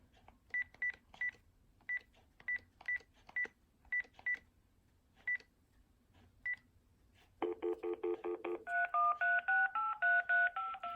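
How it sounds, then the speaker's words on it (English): A phone dials a number as a string of short touch-tone beeps in an uneven rhythm, then switches to a louder continuous ringback tone and a rising warble that hold until the end. "Alright, it's dialing."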